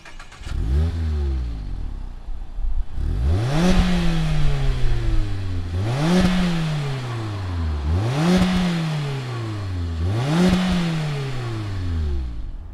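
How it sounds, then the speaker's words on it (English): The 181-horsepower engine of a 2019 Mazda MX-5 Miata RF cranks and fires, then revs four times in a steady rhythm, each sharp climb falling back to idle, close and fairly loud with no talking. "fire it up, and hear what 181 horsepower sounds like"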